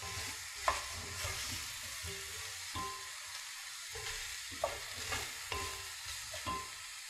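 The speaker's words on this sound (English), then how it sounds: "And now we add the florets of cauliflower. Just pop these all in here, catch a few strays. Stir this around." Cauliflower florets stirred in a cooking pot: a steady soft sizzle under repeated scraping strokes of a spoon, close by, with a few sharper knocks against the pot and no talking.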